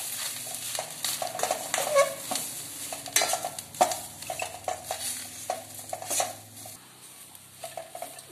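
Okra curry with coriander and sambar powder being sautéed in a kadai, with a busy run of spatula scrapes and metal clinks over a low sizzle, close and irregular, no voices.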